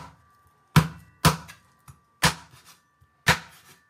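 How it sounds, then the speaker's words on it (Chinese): A cleaver chops pork ribs into chunks on a board, four sharp, loud thuds with a quieter tap between them, spaced unevenly, with no talking. "洗净后剁成块"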